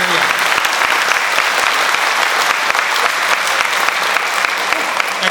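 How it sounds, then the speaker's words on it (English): Steady, dense applause from a school audience at a Veterans Day program fills the room without a break, loud and continuous from start to finish. "Can we get one more round of applause there out the door?"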